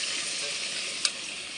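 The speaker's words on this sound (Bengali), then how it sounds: "পরিমাণ মতো গরম জল দিয়ে দিলাম।" Mutton curry sizzles with a soft, steady hiss as hot water is poured in for the gravy, faint and even with a single brief click near the end and no speech.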